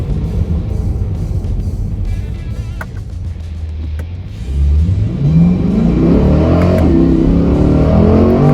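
Corvette C8 3LT accelerating hard, its mid-engine tone rising steadily in pitch and swelling louder partway through, a continuous close engine sweep with no one talking.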